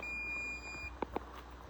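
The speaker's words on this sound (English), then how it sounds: "we've got alarms going off and all sorts of things happening" Alarms sound inside a barn: a steady high electronic tone runs for about a second, then stops, followed by two short sharp beeps over a low background hum.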